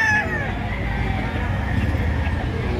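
A rooster crows at an outdoor fighting cock market behind SM Lipa in Lipa City, Batangas, loud and close over a bed of crowd babble and nearby voices.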